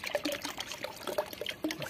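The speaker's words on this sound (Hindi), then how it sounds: "तो इसमें थोड़ा सा पानी डालेंगे ठंडा" Cold water being poured into a container, a short close trickling splash with bubbly gurgles lasting under two seconds, with no talking.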